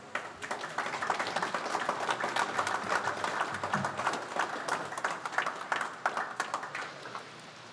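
Sustained applause from a crowd at a 2023 joint presidential inauguration in Micronesia, a dense wash of clapping that holds steady and then gradually thins out.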